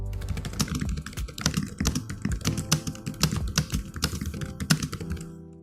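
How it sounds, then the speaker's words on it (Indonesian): Someone types steadily on an HP 975 wireless keyboard, a close, rapid run of crisp, light keystrokes with a few louder key presses, heard alone with no talking. "silahkan teman-teman dengerin aja gimana suara ketika gua mengetik menggunakan keyboard dari"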